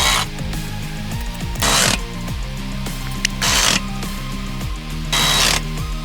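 A power tool tightens transmission bolts on a 2014 Jeep Patriot with a JF011e CVT. It whirs and ratchets steadily and close, with several louder bursts as each bolt snugs down. No one speaks.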